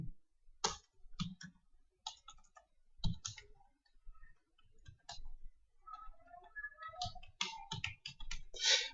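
Numbers are typed into an MS Excel sheet on a computer keyboard, heard as scattered light key clicks, close and fairly quiet, with soft background noise between the bursts of keystrokes.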